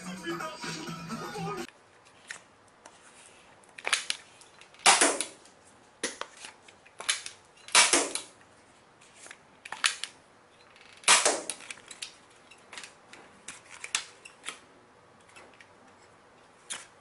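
A Daiso toy police air gun shoots sponge darts in a string of sharp, close pops at uneven intervals, each a short snap with a little clatter between shots.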